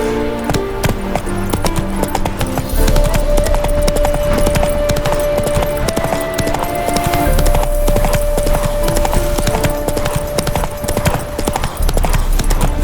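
A horse gallops in The Witcher 3, its hooves beating in a steady, close clip-clop rhythm that lasts throughout, under a sustained musical score.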